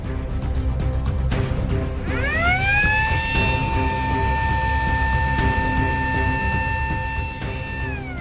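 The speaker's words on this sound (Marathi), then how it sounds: "एआय लेपर्ड डिटेक्शन अलार्मचा नाशिकमध्ये प्रयोग सुरू। बिबट्या दिसताच वाजणार सायरन" An AI leopard-detection alarm siren trialled in Dindori, Nashik, rising sharply into a loud sustained wail over clicks and background rumble, holding steady for several seconds.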